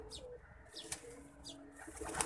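A pigeon held in someone's hand gives soft, quiet coos with a few faint wing flaps and light rustling, close by and low in level.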